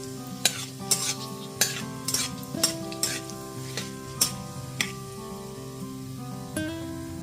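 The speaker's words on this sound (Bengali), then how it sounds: "জিরে আর তেজপাতাটা গ্যাসের ফ্লেমটা লো টু মিডিয়ামে রেখে ভেজে নিয়েছি" Bay leaf and whole cumin fry in mustard oil over a low to medium gas flame, a soft sizzle punctuated by regular sharp scrapes and taps of a spatula against the pan.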